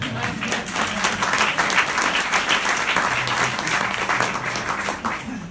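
Sustained audience applause at an evening pitch event, a dense, even wash of many hands clapping from start to finish, loud and continuous with no talk over it.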